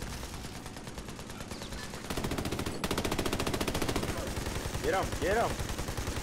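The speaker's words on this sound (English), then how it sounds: "Getting shot." Rapid automatic gunfire crackles through a firefight in the video game Army of Two: The Devil's Cartel, a dense, continuous barrage of shots with a voice calling out over it.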